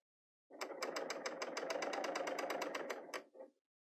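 A Bernina L800 air-threader serger fitted with a gathering foot runs at a long stitch length, gathering fabric in a steady, close, rapid mechanical chatter for about two and a half seconds before slowing and stopping with a brief final burst.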